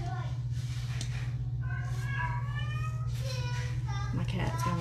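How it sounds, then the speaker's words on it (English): A house cat meows in a few harmonic calls over a steady low hum, fairly close and moderately loud in an indoor room. "My cat's going insane."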